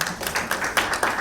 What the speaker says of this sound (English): we need a loud clap for him